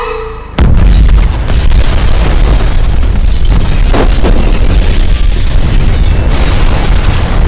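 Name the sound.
landmine explosion setting off explosives in a film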